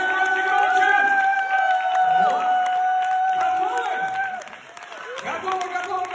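An audience at a network marketing business event cheers and applauds, a lively crowd roar with whoops and clapping that dips briefly and then swells again.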